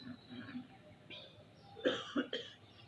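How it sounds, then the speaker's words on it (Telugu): A person coughs during a yoga breathing exercise, a few short quiet coughs and throat-clearing bursts toward the end after softer breathing sounds, close but faint in a quiet room. "గొంతులో ఇచ్చింగ్ వచ్చి ఉంటుంది, దురద వచ్చేస్తుంది, దగ్గు వస్తుంది"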